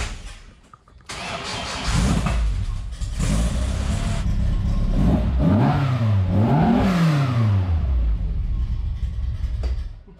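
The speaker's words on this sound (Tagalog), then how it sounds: "Parang manggigiba yung tunog. Makina ng ano po yun? Ng Porsche?" A powerful Porsche engine fires up and revs hard several times, rising and falling in pitch, loud and close throughout.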